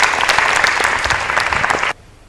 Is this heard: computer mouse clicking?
no